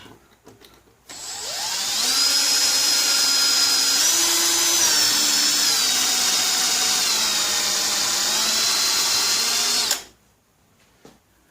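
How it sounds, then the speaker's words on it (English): A power drill runs in one long continuous whine for several seconds while working on a Honda EM650 generator, pitch wavering slightly as it drills, loud and close before cutting off abruptly. "We're going to do some drilling here for a little bit."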